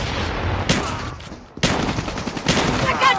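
Rapid bursts of automatic gunfire in a video game multiplayer shooter match, loud and close, with a brief pause in the middle before the shooting resumes, and no speech over it.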